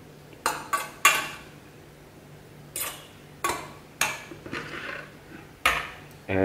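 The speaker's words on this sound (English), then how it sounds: "we'll just fluff the garlic in." Garlic being fluffed into couscous in a pot, a series of sharp utensil clinks and taps against the pot at irregular intervals, separated by quiet pauses.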